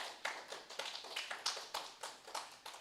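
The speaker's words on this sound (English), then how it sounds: "Please give them a round of applause." An audience at a literary and performing arts festival claps in a quick, regular rhythm. The sharp claps are fairly faint and come without any talk.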